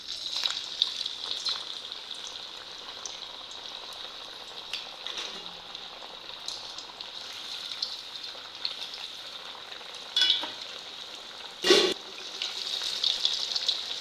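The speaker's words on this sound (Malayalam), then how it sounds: "ഇനി നമുക്ക് എണ്ണയിലിട്ട് വറുത്ത് കോരിയെടുത്താൽ മതി." Large vadas sizzle in hot frying oil, a steady bright crackle that holds throughout with a few louder bursts near the end.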